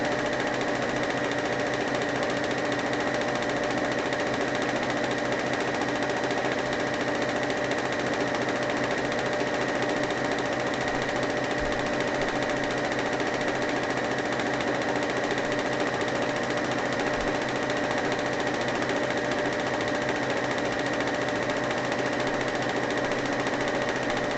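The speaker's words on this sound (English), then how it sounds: "Nothing much is going on except for sewing strips together." Sewing machine stitching fabric strips together for a Japanese wood spirit project, a loud, continuous rapid mechanical whir running steadily without pause, close up and alone.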